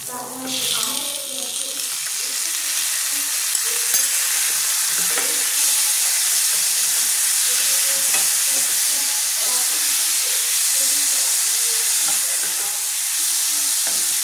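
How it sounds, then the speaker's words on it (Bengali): Chicken sizzles loudly in a hot pan with capsicum and onion. The steady frying hiss runs the whole time, broken by repeated stirring and scraping sounds. "এটা আমি একটু ফ্রাই করে দেবো।"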